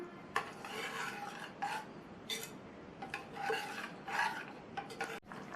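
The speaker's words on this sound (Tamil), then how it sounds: "அடுத்து இதில் வடிகட்டி வச்ச வெள்ளைக்கரைசலை சேர்த்து நல்லா கலந்து விட்டுறலாம்." Vermicelli payasam stirred in a pot after strained coconut milk is added, giving a series of quiet scraping, rubbing spoon strokes against the vessel, close and fairly soft, with no talking.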